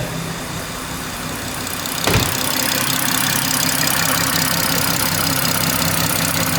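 A BMW M140i engine cranks and catches with a sharp burst, then settles into a loud, steady idle that rumbles on without pause.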